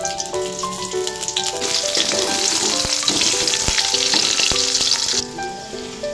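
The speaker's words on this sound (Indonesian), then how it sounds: "Kita tumis sampai harum." Shallots, garlic and sliced curly chili sauté in a hot pan with a loud, crackling sizzle, punctuated by several sharp clinks and scrapes of a spatula against the metal.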